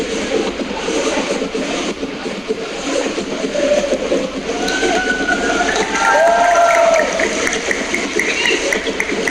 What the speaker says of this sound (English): That's the crowd, Vietnamese side of things